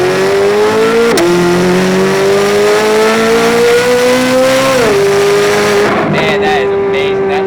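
C8 Corvette Z06 with a flat-plane-crank V8, loud and close, holding a steady high-pitched engine note that climbs through gears with brief dips at shifts, easing off near the end.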